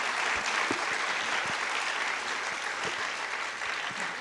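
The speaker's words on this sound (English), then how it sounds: "Let's give another big round of applause to all of our panelists." Steady applause from a conference audience clapping for a panel of speakers at an energy forum, a dense continuous patter of many hands held at even strength throughout.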